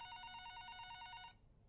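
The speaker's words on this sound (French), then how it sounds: "Le téléphone sonna sur le bureau." Electronic telephone ringing on a desk, a warbling two-tone trill repeating steadily for over a second, fairly loud and alone, then cutting off abruptly into quiet room tone.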